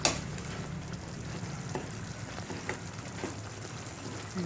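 Fried eggplant being stirred and mixed in a hot pan, a steady low sizzle of frying with occasional scraping clicks from the utensil, close and continuous with no talk.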